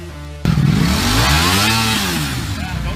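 Ducati 1299 motorcycle engine revs hard after a sudden start, a loud sustained roar that climbs and falls in pitch while staying close and steady to the end.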